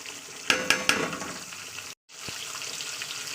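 Fish oil heats in a pan with turmeric and salt, a soft continuous frying hiss broken near the start by three sharp clicks and then a brief full drop-out before the sizzle resumes; nobody speaks.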